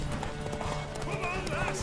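Horse galloping in The Witcher 3 video game, rapid clip-clop hoofbeats with a whinny, under an energetic voice urging the horse on.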